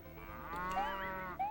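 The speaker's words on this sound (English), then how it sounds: "You chose the cow." A cow moos once in a children's preschool video game, a drawn-out cartoonish lowing call that rises and wavers over about a second and a half, clear and alone with no talk.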